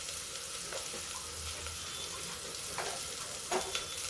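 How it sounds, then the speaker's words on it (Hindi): Asafoetida frying in desi ghee for a brinjal curry, giving a soft, steady sizzle with faint stirring scrapes and a couple of brief louder crackles near the end. "क्योंकि हींग जो है बैंगन की सब्जी में देसी घी में भुनी अच्छी लगती है।"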